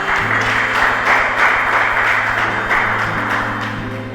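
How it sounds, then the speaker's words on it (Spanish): A congregation gives a loud round of applause for the King at a church sermon, dense clapping sustained throughout, heard over a steady low musical accompaniment and tapering slightly at the end. "vamos a dar un fuerte aplauso al Rey"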